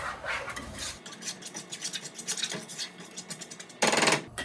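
Butter being mixed with brown sugar and granulated sugar for an apple pie, a utensil scraping and knocking against the bowl in a steady run of close, busy strokes, with a louder burst near the end.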